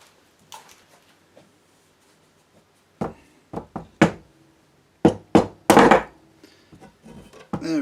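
A run of sharp, loud blows from a big hammer on wood during a guitar build, a few isolated strikes then a quicker cluster of heavy knocks, with quiet pauses between.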